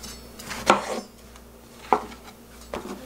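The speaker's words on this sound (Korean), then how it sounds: "약간 큼직하게 썰어주시고 썰는 거는 뭐 이렇게 썰어주셔도 상관은 없죠." A kitchen knife cuts an eggplant into large pieces on a board, giving three separate, moderately loud chopping knocks with pauses between them and quiet room tone in between.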